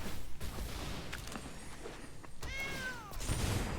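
A cat lets out a single drawn-out meow, fairly clear against a faint, noisy indoor background, briefly standing out near the end.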